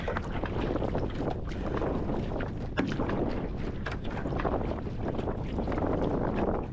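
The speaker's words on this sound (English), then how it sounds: "Oh, it's windy." Wind buffets the microphone during outdoor rowing training, a steady broadband rush and rumble with gusty swells that lasts the whole stretch with no talking.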